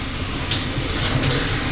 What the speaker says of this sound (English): it's time for that cold shower